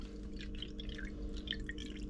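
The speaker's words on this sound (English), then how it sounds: "Cold water, just need a cup." Cold water poured into a cup for a fish batter, a light steady trickle with faint drips running the whole time, fairly quiet and close with no voices.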